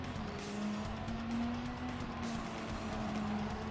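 A Mazda 787B race car in Gran Turismo 7, its engine holding a steady high drone throughout, with faint tire noise and no talking.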